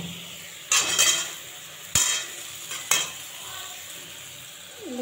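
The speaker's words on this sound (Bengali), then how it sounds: "শাকটা সেদ্ধ হয়ে গেছে। এবার অল্প একটু তেল দিলাম" Boiled greens fry in a little oil in a pan. A soft, steady sizzle runs throughout, broken by three sharp scraping stirs of a utensil against the pan in the first three seconds.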